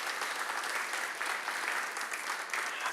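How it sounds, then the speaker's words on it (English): Audience applause fills a conference hall, a steady dense wash of many hands clapping at even loudness throughout, with no talk over it. "You will get an applause from the audience."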